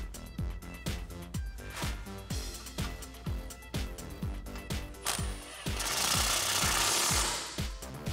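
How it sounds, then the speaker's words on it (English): Brake line bolts on a Jeep Wrangler JK axle are tightened with a 10mm socket, producing a rapid, regular series of sharp clicks close by, with a brief harsher burst of noise near the end. "thread those back in, tighten those up with a 10mm socket"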